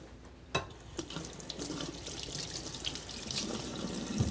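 Running tap water pours steadily into a sink as beet-stained hands are rinsed beneath it, with a few light knocks and splashes over the constant, close hiss of the flow.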